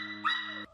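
A single dog at an animal shelter gives one short bark or yip with a strong tonal whine, clear and close, lasting under a second with no talking.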